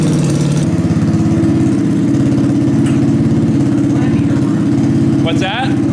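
A small-bore Gen 5 IceBear trike engine idles steadily while warming up, a low continuous throb running throughout, with people talking over it.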